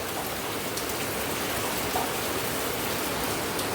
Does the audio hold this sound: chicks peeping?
no